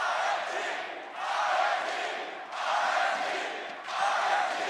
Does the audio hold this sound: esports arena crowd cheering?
yes